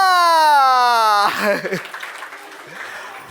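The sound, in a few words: audience applause at a magic show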